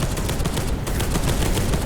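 Dense, continuous gunfire rattles without a break in Space Hulk: Deathwing, a video game, with rapid bursts packed tightly together inside a dark room, loud and close throughout.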